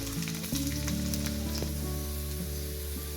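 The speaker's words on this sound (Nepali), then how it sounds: "अब म यसमा लसुनलाई मैले सानो सानो पारेर काटेको छु, त्यो हाल्दैछु।" Chopped garlic hits a hot pan with oil while making Nepali-Chinese chicken fried rice, setting off a loud, steady sizzle that swells right as it goes in and keeps crackling alone.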